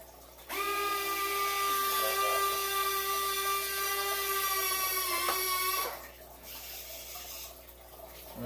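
An E-flite F-18 RC jet retracts its landing gear with a steady high electric whine lasting about five seconds, then stopping with a faint click. It is close and alone against quiet room tone.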